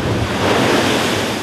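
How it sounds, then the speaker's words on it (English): Storm waves up to six metres high crash against coastal defences along eastern England in violent winds, a loud, continuous roar of surf and wind buffeting the microphone, with no voices. "Waves of up to 6 metres crashing up against defences along the coast."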